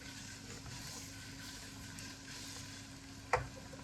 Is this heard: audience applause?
no